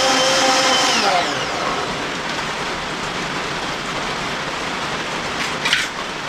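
Blender running as it purees carrots and banana into a smoothie, a steady loud whirring roar that holds throughout, close by with no talking.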